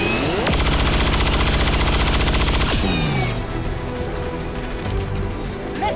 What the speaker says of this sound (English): we may as well try for a chain shot